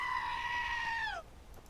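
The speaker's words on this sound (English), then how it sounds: "Goats." In Skyrim, a goat gives a single loud, drawn-out bleat lasting about a second, bending downward at the end before the sound drops to quiet background.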